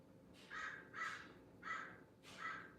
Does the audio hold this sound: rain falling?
no